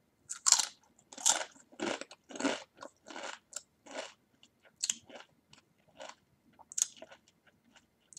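Small butter and soy sauce Doritos crunch sharply between the teeth in close, loud bursts, with bites followed by a run of quieter chewing crunches and brief silences in between.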